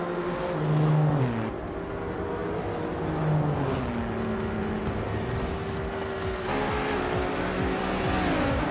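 Race cars in a video game race roar along with engines whining through gear changes and tires squealing, a loud continuous engine drone with no talk.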